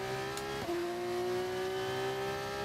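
A steady, high V8 engine tone holds with a brief shift partway through, a race car in the game F1 25 at sustained revs, no talking.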